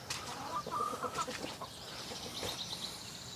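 Chickens cluck softly over a steady outdoor background, a few short bursts of clucking and chirps spread across the moment.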